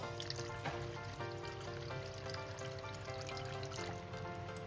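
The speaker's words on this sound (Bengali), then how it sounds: "এবার আমি এর মধ্যে দিয়ে দেবো জল। এর মধ্যে দিয়ে দিচ্ছি জল।" Pre-boiled water being poured into a thin hilsa and pumpkin curry gives a soft, steady trickle and splash, faint and continuous, over a low background hum.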